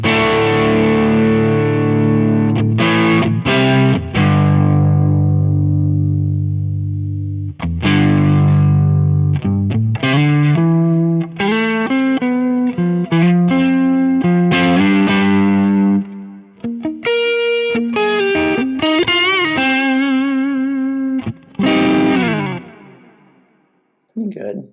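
Electric guitar played through a capture of an Ams Singer pedal on a Quad Cortex gives loud, distorted, effected tones: sustained chords and single-note runs with chorus-like shimmer and echo, filling the clip with brief gaps.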